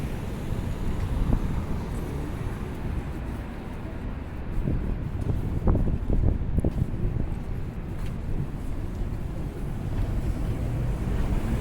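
Steady, gusty outdoor wind blowing around Water Street and Barrington Street, rumbling against the microphone at moderate loudness with brief bumps of handling noise and no clear speech.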